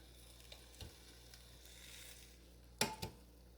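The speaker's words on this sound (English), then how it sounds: "Gonna flip them over." Eye of round steaks turned over in an air fryer basket with tongs: a few soft knocks, then two sharp metallic clatters near the end, close and fairly loud over a low hum.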